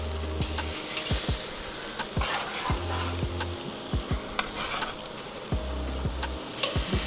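Pork chops sear directly over the heat on a Weber kettle grill, with a constant close sizzle and crackle broken by occasional sharp pops and clicks.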